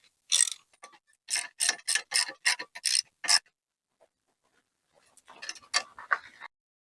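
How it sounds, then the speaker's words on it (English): A socket ratchet with a 9/16 socket tightens nuts on a seat suspension kit for a Gravely or Ariens zero-turn mower: a quick run of sharp close clicks, a pause, then a shorter burst of ratcheting. "we will tighten the nuts with the 9/16 socket"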